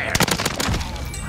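Rapid gunfire from a military shooter video game, a burst of sharp automatic shots in quick succession over the first second, loud and close, fading into background battlefield noise.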